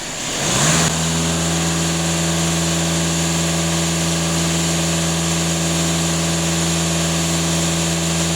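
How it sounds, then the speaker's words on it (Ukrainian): A Skoda Superb 2.0 TDI diesel engine, fitted with a pressure gauge in place of its differential pressure sensors, rises from idle to a steady, loud 2500 rpm drone held close for several seconds. "даю газ в пол 2500 обертів"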